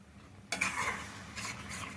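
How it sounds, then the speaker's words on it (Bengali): Spiced water is poured into mushroom masala cooking in a pan, bringing a sudden close hiss and sizzle that fades into bubbling frying, with no talking. "এই মশলা দেওয়া জলটা দেবো"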